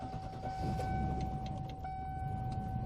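A small car's engine idles low and steady in a shop just after a cold start, with a thin high whine riding over the rumble and a few light clinks.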